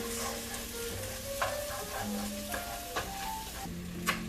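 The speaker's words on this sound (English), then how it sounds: "In go the garlic. Stir that in for about 2 minutes until it is nice and fragrant." Garlic sizzles steadily in a pot of oil for caldo verde soup while a spoon stirs it, with occasional light clinks against the pot over the soft, constant frying.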